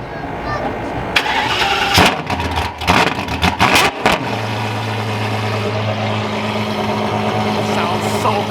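A megacar's V12 engine idles, then snaps through several sharp, loud revs before settling back to a steady, rumbling idle close by, with people talking over it.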